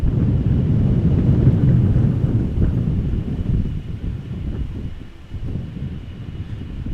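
A KLM Boeing 777-200ER departing Amsterdam Schiphol Airport on a flight to Lagos, its jet engines producing a loud, deep, rumbling roar that holds strong and then gradually fades, with wind buffeting the microphone.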